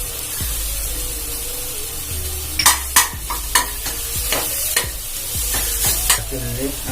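Tomato and ginger garlic paste sizzling in a pan, with a steady frying hiss broken by repeated sharp scrapes and knocks of a spoon stirring against the pan, close and loud with no talking.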